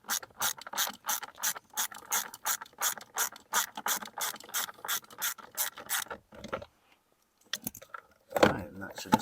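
A hand ratchet clicks in quick repeated bursts while removing the last bolt of a 2009-2013 Toyota Corolla heater blower motor, close and crisp, then stops, followed by brief faint mechanical handling sounds.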